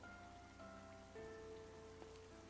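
Steady rain falls in a Final Fantasy XIII game scene, a constant soft hiss under sustained musical tones, with no voices.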